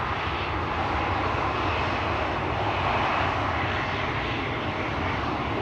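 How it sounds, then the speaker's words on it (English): A Flexport Boeing 747 roars down the runway on takeoff at Schiphol Airport, a loud, steady jet-engine rumble and hiss filling the air without pause or voices. "Flexport 747 taking off"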